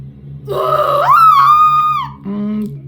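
A woman in the What Remains of Edith Finch game lets out a loud, rising, strained scream that breaks into a groaning tail. A low steady hum runs beneath it, and a short second vocal burst follows.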